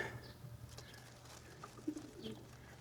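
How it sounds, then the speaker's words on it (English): Pigeons cooing softly on a loft landing board, a few low coos close by against quiet outdoor background. "I got the birds gathered up. I've placed them on the landing board."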